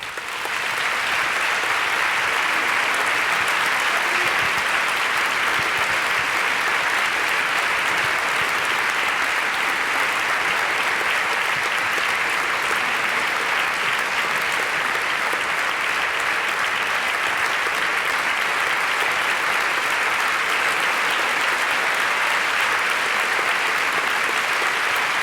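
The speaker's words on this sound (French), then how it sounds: "On les applaudit." An audience at a ballet competition final claps for the finalists in sustained, dense, even applause that fills the room for the full stretch without letting up.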